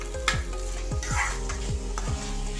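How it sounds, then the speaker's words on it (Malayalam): Chopped tomatoes and softened onions sizzling in a pan while a spoon scrapes through them in regular strokes about every half second, close and steady over a continuous fry hiss, with no voices. "അപ്പം നമുക്കിനി തക്കാളി ഇടാം"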